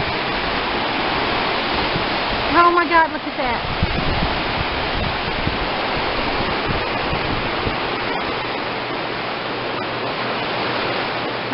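Water rushes in a constant roaring torrent from a controlled release at Lake Whitney Dam on the Brazos River, loud and close. A woman exclaims briefly over it.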